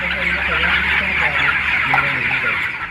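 Dense clucking from a flock of broiler chickens fills a poultry farm shed, a steady close chorus of overlapping calls throughout with no clear gaps.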